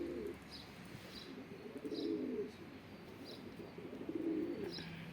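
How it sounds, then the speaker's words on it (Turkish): Pigeon cooing, a repeated low rolling coo in a few phrases with small faint chirps between, fairly close and alone with no voices. "Kılıç şu an Çankırı mavisini ötüyor"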